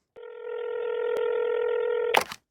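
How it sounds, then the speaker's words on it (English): Telephone tone in a call-in segment, a steady electronic dial tone held for about two seconds, loud and close, then cut off by a brief click. "Let's pick up the phone."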